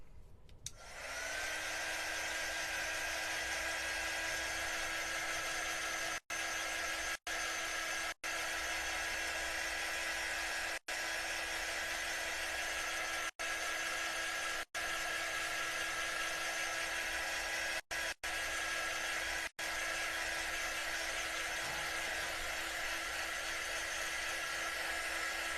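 A handheld dryer drying chalk paste on a Valentine's Day wreath, a continuous loud whine and whoosh held for over twenty seconds, briefly cut off several times, with a few faint spoken words.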